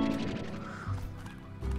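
A briar chicken from the video game Slime Rancher gives honking, goose-like clucks in short bursts, close and fairly loud, with game background sound beneath.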